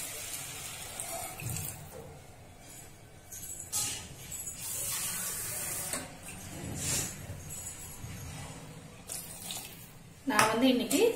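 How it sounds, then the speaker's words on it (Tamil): Water is poured into a pan of South Indian vegetable korma, a rushing, splashing pour that swells and fades across several seconds, with a louder burst of bubbling and clatter at the very end. "நம்ம லைட்டா தண்ணி ஊத்திக்கலாம்."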